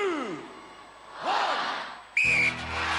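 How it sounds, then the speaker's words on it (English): Referee's starting whistle blown at a televised Gladiators contest, a single sharp loud blast after a rising, cheering crowd, with event noise around it. "Russia and America, you will go on my first whistle"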